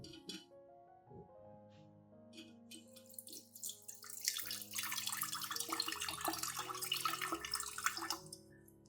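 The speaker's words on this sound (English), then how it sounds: "I strain out the solids and keep only the liquid extract" Strained onion liquid drips and trickles into a container, starting with sparse clinks and drops, then building into a fuller, continuous pouring splash at close range.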